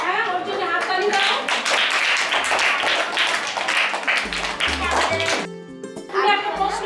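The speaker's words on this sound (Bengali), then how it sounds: "ওর জন্য হাততালি দাও" Schoolchildren in a classroom clap for a classmate, a burst of uneven hand claps mixed with young voices chattering throughout, ending in a brief lull before voices pick up again.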